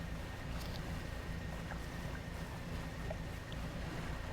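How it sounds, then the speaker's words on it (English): Small jet engines on a boat in the fishing video game Dredge whir steadily, a continuous low hum over a soft, wind-like wash of water with no music or voices. "I hear my boat's stupid little jet engines whirring away."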